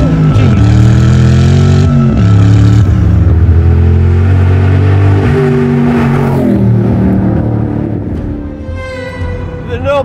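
Noble M600 supercar with a 750 brake horsepower engine revving hard and accelerating, a loud, close, continuous roar whose pitch climbs and falls through gear changes across the whole stretch, easing slightly near the end.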